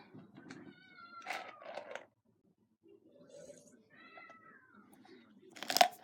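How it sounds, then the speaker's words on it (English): A cat indoors gives several drawn-out, wavering meows, some whiny and strained like a yowl, fairly close, with a brief quiet gap midway and a louder, harsher cry near the end. "We have a cat in the house."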